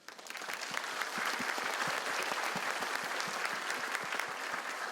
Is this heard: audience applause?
yes